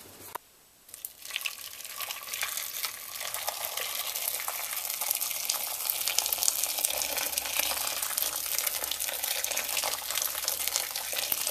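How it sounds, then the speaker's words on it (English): Boiling water pours steadily from a kettle into a saucepan with a continuous rushing, bubbling splash that holds an even level throughout, close and fairly loud. "Then you're going to cover them with boiling water from the kettle."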